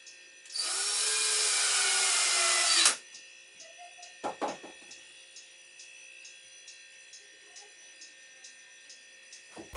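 A wood lathe cuts with a chisel in a loud, steady burst of about two and a half seconds, then stops, leaving faint knocks and clicks over a low, constant hum.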